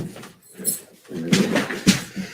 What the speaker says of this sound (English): Dog just had to be restrained so he didn't knock my wife over.